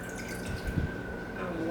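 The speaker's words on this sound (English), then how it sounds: "I usually put the water in the bottom of my pan so it won't stick." Water poured into the bottom of a roasting pan holding pork chops gives a short dripping splash at close range over a steady faint hum.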